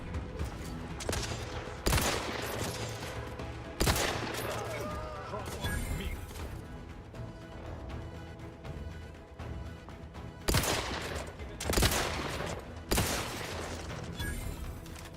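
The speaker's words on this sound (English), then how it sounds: "the problem is this gun is like auto-locking on him" Rapid bursts of gunfire from an auto-locking gun in the video game The Outer Worlds, several loud volleys at intervals over busy game sound and music.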